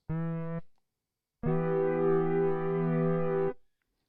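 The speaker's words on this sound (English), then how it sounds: "that's all we do for the chorus effect." A short plain synth note, a pause, then a longer, thicker synth tone from Ableton Operator with a shimmering, slightly wavering chorused quality.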